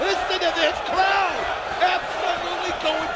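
Loud, steady roar of a large wrestling crowd during an NWA pay-per-view match, cheering and yelling continuously through the whole stretch, with excited voices rising and falling above the din.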